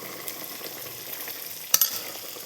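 Spices sizzle softly in hot oil while tempering for a curry, a steady low frying hiss with a brief sharper crackle and clink near the end.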